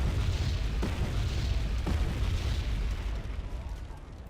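Explosion in Wargame AirLand Battle, a deep rumbling blast with a couple of sharp cracks inside it, sustained low roar fading over a few seconds, no clear talking.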